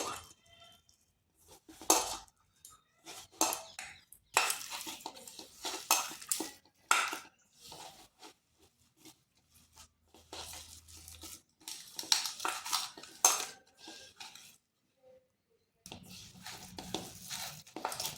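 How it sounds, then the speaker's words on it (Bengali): Drumstick flowers being mashed and mixed by hand into a thick fritter batter in a bowl, irregular squelching and crushing bursts with short pauses between them, close and fairly quiet, with no talking. "এইভাবে একটু চটকে চটকে মাখতে হবে, যাতে ফুলগুলোর সাথে সব কিছু ভালোভাবে মিশে যায়"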